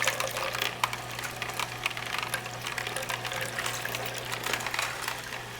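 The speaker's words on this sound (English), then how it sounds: "just adding water with the almonds," Water is poured a little at a time with soaked almonds into an Omega VERT VRT330 juicer, a steady splashing trickle with small clinks and a low constant hum underneath, no talking.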